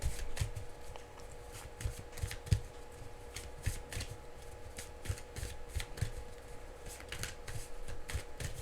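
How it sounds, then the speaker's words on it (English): Soft, repeated riffling and flicking of playing cards being shuffled close by, in quick uneven bursts with no talking. "let me shuffle some more"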